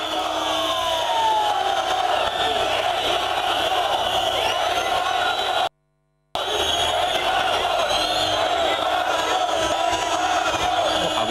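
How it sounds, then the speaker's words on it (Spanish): A large crowd of police officers boos and jeers at the Spanish prime minister, a loud dense roar of shouting and whistling that fills the scene, broken by a brief moment of silence midway. "vamos a escuchar los abucheos de los policías"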